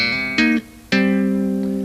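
Tapped and hammered-on bass guitar notes with double stops, a few sharp attacks ringing into sustained tones, close and clear, played alone.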